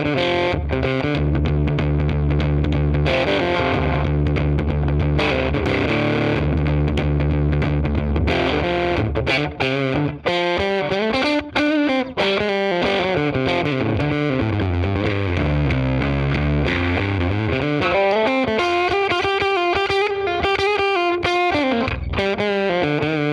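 Baritone guitar played through a Two-Rock Burnside tweed amp with the input turned all the way up, ringing out loud and distorted with sustained chords and low riffs, solo with no voices.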